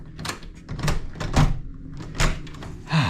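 A back door of a newly bought house opening up close, a few knocking thumps and rattles spread over a few seconds, with no talking.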